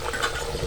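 Dhakai paratha frying in hot oil, a steady, dense sizzle that stays loud and even throughout the short moment, with no talking.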